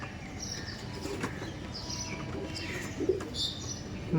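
Malbai pigeons, Punjabi flying birds, give soft low coos and occasional chirps against a constant noisy background, with a brief flutter of wings.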